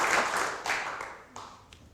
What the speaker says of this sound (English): How about a round of applause for our scribe?